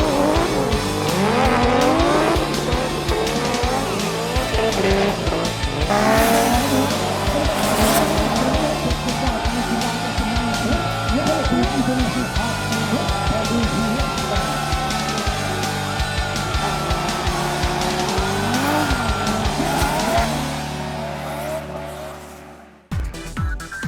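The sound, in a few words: car drifting demonstration with tire squeal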